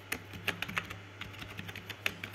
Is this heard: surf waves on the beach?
no